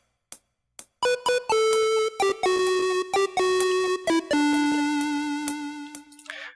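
A bright chiptune synth voice made with a 3xOsc synth plays a short melodic phrase of held notes, ending on a long tone with wavering vibrato; close and clear, no talking.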